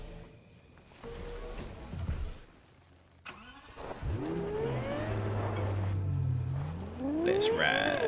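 A car engine in Cyberpunk 2077 cranks and starts, then revs up and holds a rising, sweeping whine that climbs again near the end, loud and close with no talking.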